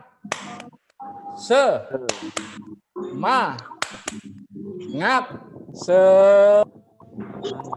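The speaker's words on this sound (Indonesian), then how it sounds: "ayo tepuk semangat ya" A grade 9 class at a Surabaya junior high school performs a rhythmic spirit clap, with sharp claps in set patterns between chanted syllables from many voices, ending on a sustained loud shout.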